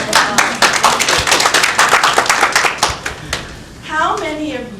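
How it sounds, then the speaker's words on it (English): Audience applause at a public speaking session: loud, dense clapping from a room of people for about three seconds, then fading out as a voice begins talking. "Give Judy a round of applause."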